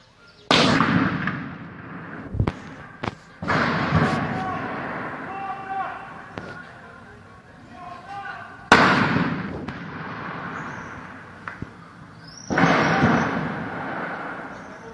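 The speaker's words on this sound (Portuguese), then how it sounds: "Moradores também registraram o barulho das explosões das dinamites usadas pelos bandidos." Dynamite explosions set off by robbers during a bank robbery, heard from a distance as several sharp booming blasts spread over the clip, each followed by a rumbling decay, with voices talking between them.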